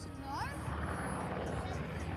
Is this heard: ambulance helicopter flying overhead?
yes